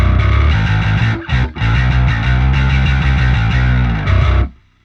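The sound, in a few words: distorted modern metal bass guitar tone with sub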